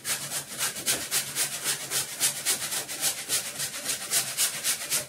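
Fresh ginger grated by hand in a home kitchen: close, steady rasping strokes in a quick, even rhythm of about four per second, continuing without pause and with no talking.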